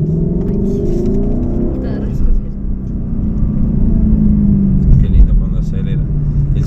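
A Lexus LC500 engine with a 10-speed gearbox rumbles in a deep, steady drone with a shifting pitch, heard from inside the car while people talk over it.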